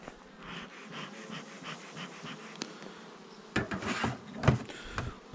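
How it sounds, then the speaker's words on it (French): Bees hum faintly and steadily around an apiary hive in spring, a soft buzzing bed with a few nearer buzzes and handling bumps toward the end, no speech. "Là, on a des abeilles."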